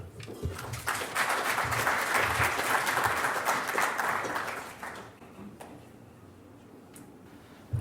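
Applause from a conference audience welcoming the keynote speaker at a BPO automation talk: steady, loud clapping from many hands for about five seconds, then tapering to scattered claps and quiet.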